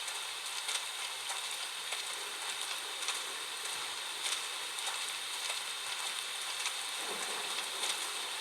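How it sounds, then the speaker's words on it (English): Steady rainfall in the video game Xenoblade Chronicles X, a dense, even hiss of drops that holds constant throughout with only faint patters rising above it, no voices present. "The rain's starting to let up, just in time for sunrise."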